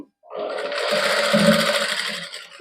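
A sewing machine runs in one continuous burst of stitching, sewing gota patti lace onto a dupatta, its whirring motor close and loud after a brief silence.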